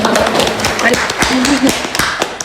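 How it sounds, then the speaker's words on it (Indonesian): Scattered handclaps for school student council leaders sound over ongoing talk, a few sharp close claps spread through the clip. "tepuk tangan dulu dong"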